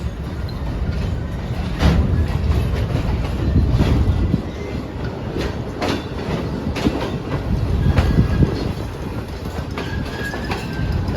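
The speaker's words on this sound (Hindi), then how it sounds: "हल्का हल्का गुजर जाएगी खानेवाल जंक्शन से हमारी ट्रेन।" A passenger train on the Shalimar Express route rolls through Khanewal Junction, heard from inside an air-conditioned coach: a steady rumble with repeated clickety-clack wheel beats over rail joints and occasional faint squeals.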